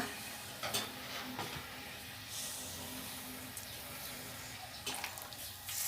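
A spoon stirs boiling pink milk agar jelly in a pot, with soft steady bubbling and occasional light scrapes and taps against the pot, quiet and close, with no talking.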